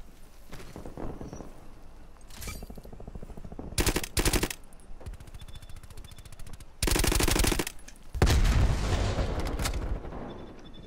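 Automatic fire from a Galil rifle in the video game Black Ops Cold War, loud bursts of rapid shots in several clusters, separated by quieter stretches where a voice talks.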